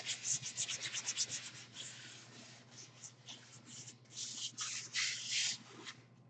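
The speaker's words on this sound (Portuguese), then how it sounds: "Caprichem bem na lixa, que faz toda a diferença a qualidade do trabalho." Sandpaper rubbed by hand over MDF on a small jewelry box, smoothing the raised fibers: a run of close, rhythmic scratchy strokes, quicker at first, then broader, heavier passes toward the end.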